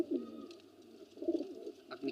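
An old pigeon flock kept for seventeen years coos in a home loft, with a few distinct low rolling coos close by, a faint background hum and occasional light rustles.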